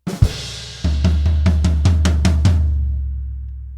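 A rock drum bar on a kit, played with alternate sticking around the floor tom: about eight evenly spaced, punchy tom hits after an opening accent, loud and close, then ringing out with no talk.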